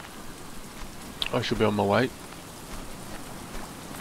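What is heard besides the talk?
rain falling in the video game Stranded Deep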